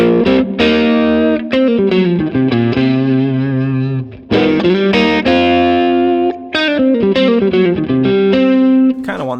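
An electric guitar played through a Dumble-style amp plugin on a clean, chiming setting rings out in loud strummed chords and sustained notes, with a short break and a restart partway through, and no talk.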